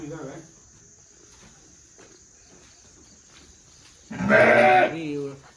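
On a Nari Suvarna sheep farm, a single loud, close sheep bleat rings out near the end. Before it there is faint talk and a thin, steady hum of crickets.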